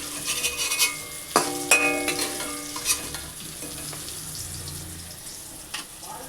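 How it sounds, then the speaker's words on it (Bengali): Okra (bhindi) fries in oil in a pan, with a soft steady sizzle broken by several clinks and scrapes as a utensil stirs it, close and without talk. "পুরো ভেন্ডিটা ভাজা হয়ে গেছে।"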